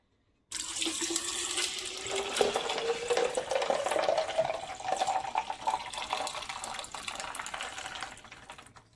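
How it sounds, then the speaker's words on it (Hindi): Grapefruit juice pours steadily into a jug holding ice, a continuous splashing stream whose pitch rises as the jug fills, close and clear before tapering off. "और अब हम इसमें जूस ऐड करेंगे।"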